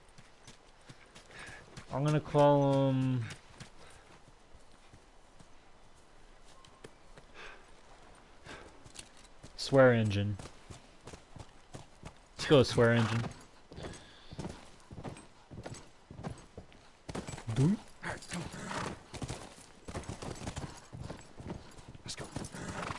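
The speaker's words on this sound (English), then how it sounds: "Alright, let's get my horse going." Horse hooves clip-clop in The Last of Us Remastered, steady hoofbeats running under someone talking, with a few loud whinnies and snorts breaking through.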